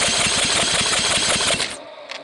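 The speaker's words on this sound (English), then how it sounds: "we're using the old Ryobi electric starter." Honda Fourtrax TRX 250 ATV engine, fire damaged, spun over by a Ryobi electric starter: a fast, steady mechanical cranking chug for about a second and a half, then it cuts off and goes quiet.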